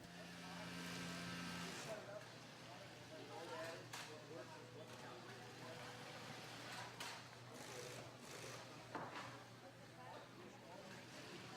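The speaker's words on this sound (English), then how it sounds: "using a special heavy-duty sewing machine" A special heavy-duty sewing machine stitches a pack frame through the back pad of a scuba diving BCD in a factory, giving a quiet, continuous mechanical whir broken by occasional sharp clicks.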